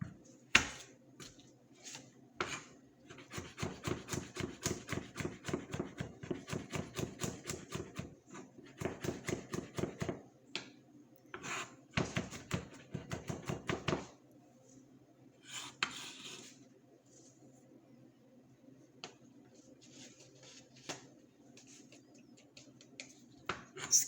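Garlic crushed and rough chopped on a board for a Diet Coke stewed chicken, with a rapid run of sharp knife taps, then a pause and a second burst, followed by scattered lighter clicks and scrapes.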